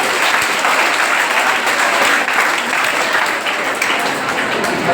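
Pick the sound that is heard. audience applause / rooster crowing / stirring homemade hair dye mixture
audience applause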